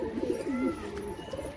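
Pigeons coo at a loft, a clear close rolling call followed by softer repeated coos, with faint chirps and rustle in the background.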